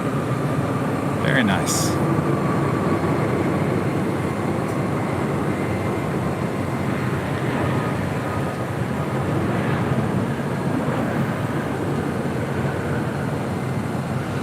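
An airliner touches down at LAX with a steady, broad jet roar that holds throughout at close range, while a voice speaks briefly over it.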